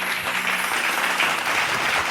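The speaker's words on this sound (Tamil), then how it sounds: "கைத்தட்டுங்க." An audience in a church applauds loudly and steadily, a dense wash of clapping hands sustained throughout with no pause.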